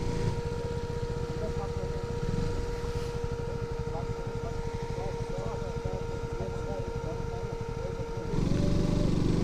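KTM RC motorcycle ridden along a hill road through pine forest, its engine a steady, close droning hum with a constant whine, holding for several seconds before the tone shifts near the end.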